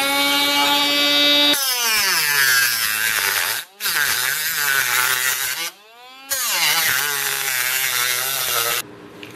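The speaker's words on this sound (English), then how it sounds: "Use the Dremel." A Dremel rotary tool cuts repeatedly along a scribed line, its high-pitched whine rising and falling in pitch over several passes with brief pauses between them, loud and close with no talking.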